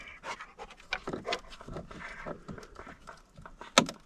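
A dog pants in quick, breathy bursts close by on a rural property where chickens are kept, with a sharp knock near the end like wood or a door.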